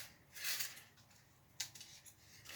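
Scissors trim a plastic model kit part in a few short crisp snips, with quiet gaps between the cuts and no talking.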